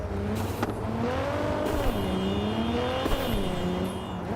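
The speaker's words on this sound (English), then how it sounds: "It's quite loud when you're driving in the car." A car driven in the video game Cyberpunk 2077, its engine droning steadily and loudly with rising and falling revs and occasional tire noise, close and without talk.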